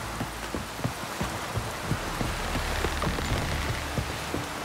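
Rain falls steadily in the video game The Witcher 3, a dense even hiss with soft scattered drop ticks, no voices.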